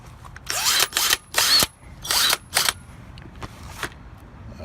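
An old Craftsman impact wrench fires in five sharp, loud bursts of hammering whir with short pauses between, close by, used on shock and strut bolts of a 2003 Ford Crown Victoria.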